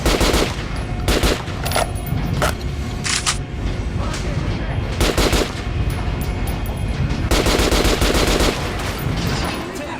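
Gunfire at a target dummy in the video game Metro 2033 Redux, with loud, close, repeated shots in quick bursts over a constant layer of game sound.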